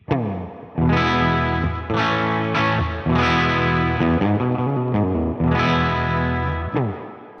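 Electric guitar with a P90 pickup played through an overdrive pedal set clean, only slight breakup; loud strummed chords ring out alone in several phrases with sustained decays and brief gaps between them.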